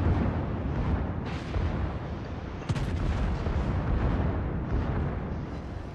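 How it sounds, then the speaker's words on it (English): Secondary guns on a warship in a naval video game fire in continuous, heavy booming volleys, loud and dense throughout, with a sharper crack standing out near the middle and no speech over the barrage. "It looks like my secondary guns done clocked him."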